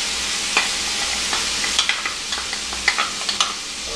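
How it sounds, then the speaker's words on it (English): Wine and capers stirred in a pan over low heat, a soft steady sizzle with small scraping clicks of the utensil against the pan, close and alone. "I'm going to turn it on low, and I'm going to add in the wine. Stir that around. Throw my capers in."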